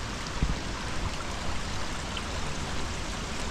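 A small waterfall and stream at Yedigöller in Turkey rush with a steady, full-bodied splashing roar that stays constant and close throughout, with no voices.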